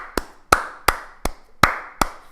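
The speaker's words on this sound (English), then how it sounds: "You deserve a round of applause." Six sharp hand claps from a single person at a steady, slightly uneven pace, close and clear against a quiet background.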